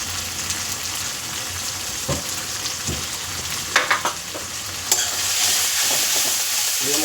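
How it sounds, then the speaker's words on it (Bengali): Masala with Kashmiri red chili powder, turmeric and salt stir-fried in oil in a pan, a dense continuous sizzle close by, broken by a few sharp scraping strokes of the spoon, with no voices. "মশলাটা ভালো করে কষানো তো মশলা খুব ভালো করে আমার কষানো হয়ে গেছে"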